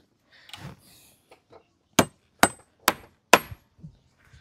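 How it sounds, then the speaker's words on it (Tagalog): A hammer drives nails into wood during a backyard garden repair, four sharp, loud, evenly spaced strikes after a few quieter taps, with faint handling noise around them. "Papako ko lang to."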